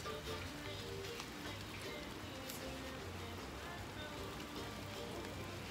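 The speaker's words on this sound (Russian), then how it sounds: "Блин, Петь, тут дождь." Steady, even hiss of rain falling close by, continuous throughout with faint low rumble beneath.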